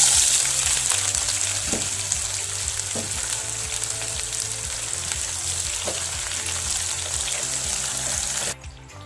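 Sliced onion frying with cumin seeds in oil in a pan, a loud continuous close sizzle with occasional stirring scrapes, cutting off abruptly near the end.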